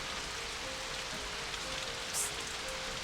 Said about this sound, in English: I want to hear the raindrops falling on my door.